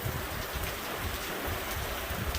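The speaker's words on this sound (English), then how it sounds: "get out of the rain" Steady rain drums on the roof of an observation shelter in the butterfly meadow at Allegany State Park, a dense, even hiss of close drops with no pauses.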